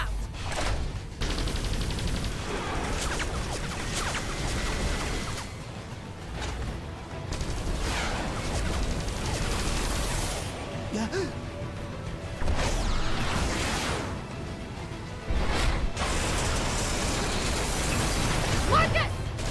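Gunfire aimed at incoming missiles and explosions in the video game Xenoblade Chronicles X, dense rapid bursts and booming blasts layered into a continuous loud battle din, with voices shouting over the chaos.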